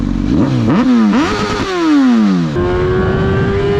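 A Honda CBR1000RR and a Kawasaki ZX-10R rev hard in Las Vegas, loud and close, their engine pitch climbing and dropping in repeated sweeps before settling into a high, steady drone.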